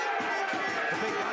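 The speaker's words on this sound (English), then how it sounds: "That draws a massive round of applause from the crowd beneath us." Crowd at a rugby league play-off final between Ince Rose Bridge and Stanningley breaks into a dense, steady wash of applause and cheering, heard from the stands for a brief moment without pause.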